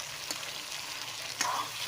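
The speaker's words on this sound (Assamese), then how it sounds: "মাংসখিনিও মই ভালদৰে ভাজি ল'ম।" Meat fries with onions and bay leaves in a hot pan, a steady close sizzle broken by a couple of louder stirring scrapes, with no voices.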